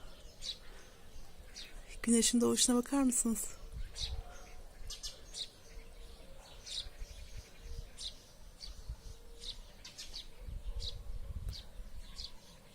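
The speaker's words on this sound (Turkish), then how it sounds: "Kuşların, horozların ötüşleri geliyor." Birds and roosters chirp and call faintly in the open air of a village at sunrise, with a person speaking softly over them for a moment.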